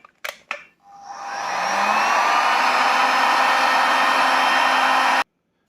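A heat gun warms the second crankcase half of a Peugeot 125 scooter engine so a bearing can be fitted. A couple of brief clicks come first, then a steady loud blowing roar rises and holds before cutting off abruptly.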